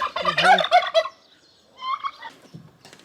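A turkey kept with chickens gobbles close by in one loud, warbling burst, followed by quieter clucking and calls from the farmyard birds.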